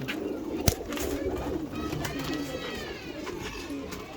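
Fancy breed pigeons cooing in a loft, several soft rolling coos repeating close by over a low background murmur, with one sharp click near the start.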